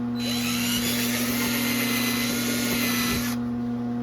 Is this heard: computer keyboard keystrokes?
no